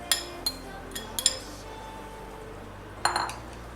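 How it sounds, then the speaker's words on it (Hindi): Chopped cabbage and chicken being mixed with black pepper and oregano in a bowl, a handful of light clinks and taps of a utensil against the dish, quiet and spaced apart. "ये आप चॉप की गोभी और चिकन डाल दें इसमें, और उसको काली मिर्चें ओरिगानो डाल के मिक्स कर लें।"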